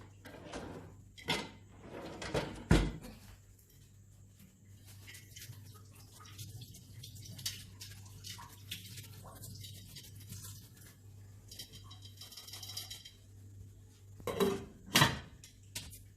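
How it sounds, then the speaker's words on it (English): Metal pot lid set down onto a cooking pot while making Jamaican mince beef, a few loud clanks near the start and again near the end, with quieter kitchen clatter and a steady low hum in between. "Cover our pot now"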